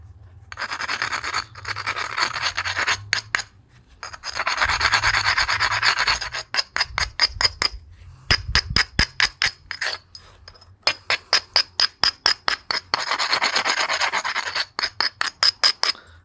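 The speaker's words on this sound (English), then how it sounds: "I like to abrade across on glass or with the corner." Black bottle glass being abraded in stone knapping, with long rough rubbing passes broken by bursts of quick, sharp scraping strokes, loud and close, no talking.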